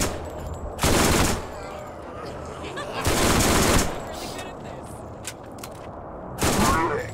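Gunfire in the video game Borderlands: three loud bursts of rapid automatic fire, each about a second long, separated by quieter stretches of low ambient noise.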